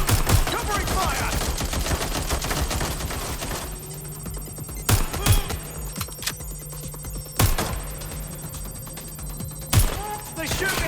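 Heavy gunfire in the London-set game Watch Dogs: Legion: a rapid burst of shots at first, then sparse loud single cracks spaced a few seconds apart over a low hum.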